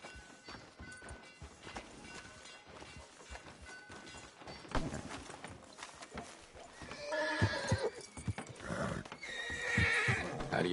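In Red Dead Redemption 2, a horse whinnies and its hooves clip-clop along a town street, faint at first and then louder, ending in a run of quick hoofbeats and neighing.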